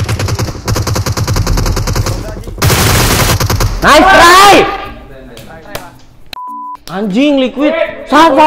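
Rapid automatic gunfire bursts from a player's weapon in the mobile battle royale PUBG Mobile, loud and dense in the opening seconds, followed by game beeps while players talk over it.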